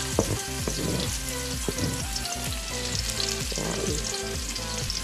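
Onion sizzles loudly in a pan with browned garlic, a steady close frying hiss broken by repeated clinks and scrapes of stirring.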